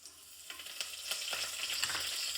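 Curry leaves and bay leaves dropped into hot oil for Gujarati village-style dal dhokli, setting off a steady close sizzle with a few sharp crackling bursts and faint stirring, no voices.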